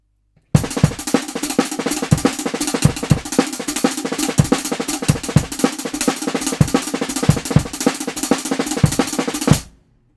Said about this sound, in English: it's a really, really crazy drum and bass groove.